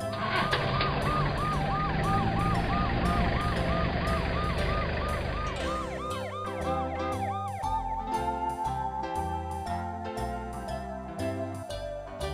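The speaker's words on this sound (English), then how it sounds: "Army ambulance." An army ambulance siren wails in a steady, repeating rising-and-falling pattern over a musical background, loud and continuous, shifting to a different siren tone partway through.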